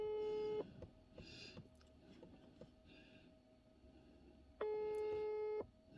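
Telephone busy signal on an unanswered call: two loud, steady beeping tones about a second long, separated by a few seconds of quiet room noise with faint clicks.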